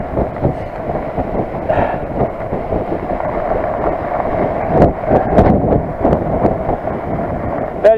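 Strong wind at Loch Muick in Scotland roars and buffets the microphone as a continuous, loud, rumbling rush with gusty surges and no voices.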